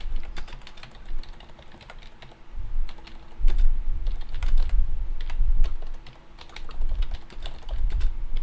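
Rapid, uneven clatter of a computer keyboard during a live Dungeons & Dragons game session. The bursts of keystrokes are close and continuous for the whole stretch, getting busier and louder toward the middle, with no talking.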